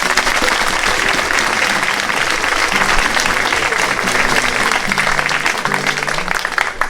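A crowd at a parish end-of-year pastoral celebration claps loudly and continuously, dense applause filling the room, with some music or voices faintly underneath.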